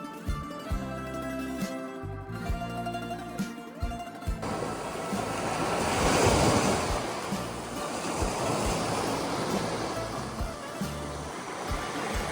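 Sea waves wash onto Olympic Beach in Greece, below Mount Olympus, as a broad, steady surf roar that swells louder midway; the first few seconds carry a different, more tonal background before the surf takes over.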